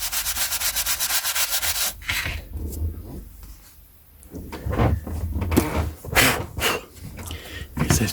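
Vintage books being polished with rapid, rhythmic rubbing strokes, loud and close at first, then slower scattered swipes and handling rustles after a quiet pause.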